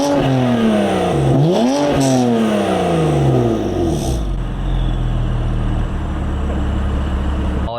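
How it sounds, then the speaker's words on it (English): BMW F80 M3 with an Active Autowerke resonated equal-length mid pipe, revved while standing with exhaust valves open in sport mode: several loud, close rising-and-falling engine revs with a raspy exhaust note, settling into a steady idle rumble. "I'm just gonna give you guys a couple standing revs real quick,"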